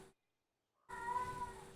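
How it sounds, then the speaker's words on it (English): After a short silence, a loud pet cat lets out one long, close, insistent meow that lingers to the end. "Loud cat. I have a loud cat."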